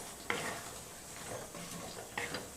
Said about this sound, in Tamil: சோம்பு சேர்த்துட்டு நல்லா கலந்து விட்டுடலாம்.